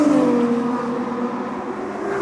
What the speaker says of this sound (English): you've got the engine screaming right over your shoulder